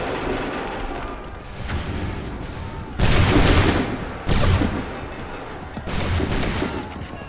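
Musket volleys fired on command in Assassin's Creed 3: several loud, dense bursts of massed gunfire crack out in sequence, each a heavy rolling fusillade with a brief gap between them.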